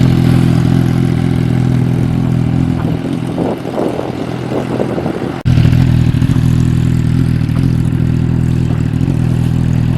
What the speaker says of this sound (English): She's riding the 1000cc super bike, slowly but surely.